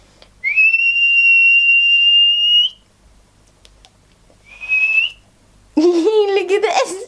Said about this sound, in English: If you whistle, she gives you cuddles.